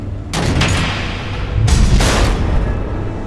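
Missile explosions in the Batman: The Evil Within video game, two heavy booming blasts with rumbling low-end tails, one early and one midway, loud and close with no talk.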